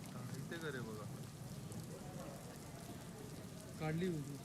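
Heavy monsoon rain pours down in Palghar as a steady, faint hiss of rain on surfaces, with brief voices and chatter breaking through in the background.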